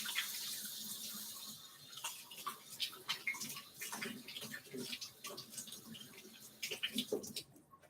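Tap water runs faintly into a kitchen sink while hands are washed, with soft splashes and irregular patters of water against hands and basin.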